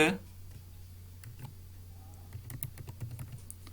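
A computer keyboard clicks in short, light bursts of keystrokes while C++ code is typed, faint and close, under a steady low hum after a brief opening voice.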